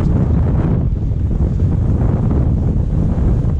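Steady, loud wind roaring across the microphone during a cycling climb in the Drôme Provençale, a continuous broadband rush with no pauses and no voices.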